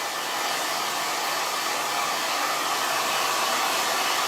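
A hair dryer blows steadily for several seconds while styling a wash-and-go, a loud, continuous broadband whoosh held close, with no talking.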